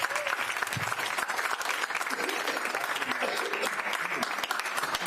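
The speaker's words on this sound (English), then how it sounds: "Can we give her a round of applause?" An audience at a monthly Community Board 14 meeting claps in sustained, dense applause for a board member, with voices talking and calling out throughout.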